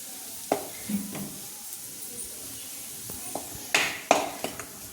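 Ground spice paste sautéing in oil in a home kitchen for a tur bean curry, a soft sizzle broken by several clinks and scrapes of a spoon against the pan, close by and with no speech.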